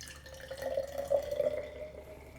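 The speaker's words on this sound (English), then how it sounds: "So we're going to strain this into each glass." A mixed cocktail is strained from a shaker into glasses, a faint, soft trickle of liquid lasting a second or so in a quiet room.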